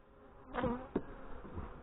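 Honey bees buzzing at a beehive, a couple of brief close buzzing passes over a faint background hum.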